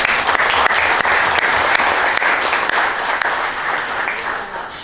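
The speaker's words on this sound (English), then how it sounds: "I would like to ask you to join me in another round of applause for our panelists" A book launch audience claps for the panelists in a sustained, dense round of applause, loud and steady before gradually thinning out near the end.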